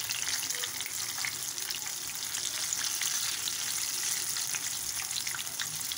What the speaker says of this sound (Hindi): हमारे बैंगन जो हैं बहुत अच्छी तरह फ्राई हो चुके हैं